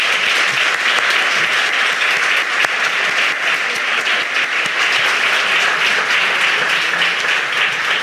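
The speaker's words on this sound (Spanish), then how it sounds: "recibámoslo, por favor, con un fuerte aplauso" Steady, dense audience applause at a Japanese pop culture platform presentation, a full room clapping loudly and evenly throughout with no talk over it.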